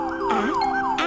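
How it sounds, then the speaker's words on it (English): An ambulance siren wails in smooth, rising and falling sweeps, loud and close, with a brief higher tinkling layer near the end and no voices. "This is an ambulance."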